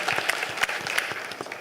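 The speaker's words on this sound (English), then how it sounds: "the women here really deserve a great round of applause" Audience applause at a design conclave in India, a brief burst of dense clapping that fills the room and fades quickly.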